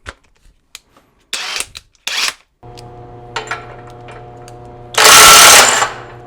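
A Beswell 1/2-inch impact wrench rated at 1200 N·m maximum loosening torque spins a nut off: two short loud hammering bursts, then a steady hum and a long, very loud rattling burst, with no talking.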